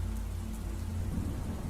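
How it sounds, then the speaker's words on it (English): Heavy rain drumming steadily on a car windshield, a dense, constant wash of noise with a low engine hum underneath. "the only sound were the raindrops against the windshield and the hum of my car's engine"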